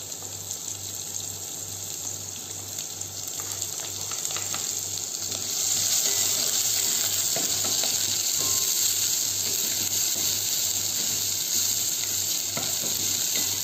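Green onion fries in olive oil while cooking Indomie, giving a constant dense sizzle and crackle. The sizzle grows a little louder partway through, with no talking.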